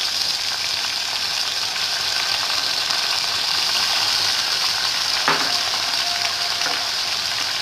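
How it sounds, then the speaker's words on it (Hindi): Minced mutton sizzling in a pan of light-browned onions, a steady loud frying hiss with a brief stirring scrape partway through, no voices. "प्याज हमारी लाइट ब्राउन हो चुकी है। अब हम इसमें शामिल करेंगे कीमा।"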